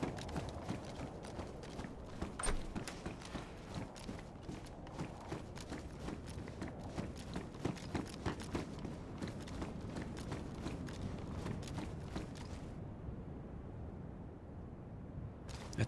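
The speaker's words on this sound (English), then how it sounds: "That's a zombie. I heard those footsteps." Rapid footfalls of a zombie running across ground in the survival game DayZ on the Sakhal map, a steady patter of quick thudding steps that stays close and fairly loud throughout.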